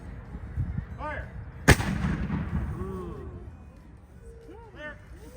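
A historical reenactment weapon fires on command at a village: one sharp, loud blast followed by a fading rumble, with shouted commands and bird chirps around it.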